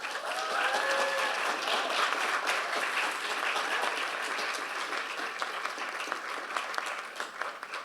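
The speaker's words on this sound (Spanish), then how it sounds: "un aplauso por favor" Sustained audience applause fills a room at a book presentation about theatre and public entertainment in Aguascalientes, a dense steady roar of many hands clapping for the full stretch with no voices over it, tapering slightly at the end.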